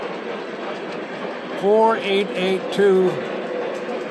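Model trains, including a 4884 Big Boy locomotive, run with a steady rolling rumble of wheels on track while someone talks briefly over it.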